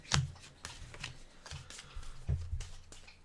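Playing cards are shuffled during a tabletop game, a series of crisp riffling flicks and taps in irregular bursts, close and fairly quiet, with no talk.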